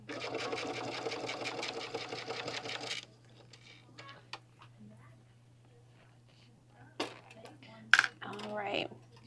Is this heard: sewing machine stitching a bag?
yes